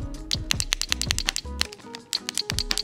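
An endless fake bubble-wrap stress toy, battery powered, is pressed over and over, giving rapid crisp clicks and pops in uneven bursts, close up and fairly quiet, with a few short electronic tones between them.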